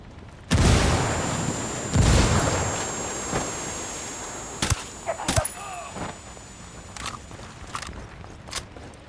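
A frag grenade in Ghost Recon Wildlands goes off with a heavy, close boom that is quickly followed by a second blast, then scattered sharp gunshots fade out over quieter background noise.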